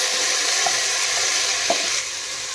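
Washed rice sizzles and hisses as it is stir-fried in a pot with lightly fried dry fruits, a steady frying noise with a couple of soft scraping stirs.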